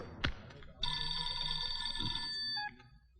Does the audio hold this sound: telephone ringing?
yes